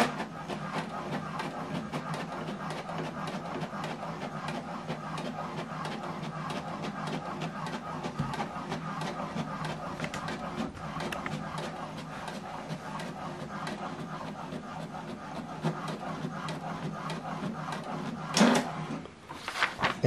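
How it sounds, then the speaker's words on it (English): HP DeskJet wireless printer printing a document, a steady mechanical whir with rhythmic feed clicks running at moderate level, ending with a few louder clunks as the page finishes. "So this document now is printing."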